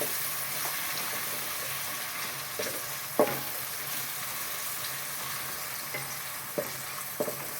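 Garlic frying in a pan for a fried mash dal dish, giving a steady soft sizzle of oil close by, broken by a few sharp spatula taps and scrapes against the pan.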